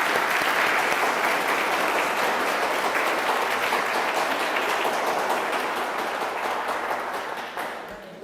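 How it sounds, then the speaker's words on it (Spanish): A conference audience gives a full, sustained round of applause for a guest lecturer, dense steady clapping that holds for several seconds before tapering off at the end. "más que un merecido aplauso, por favor,"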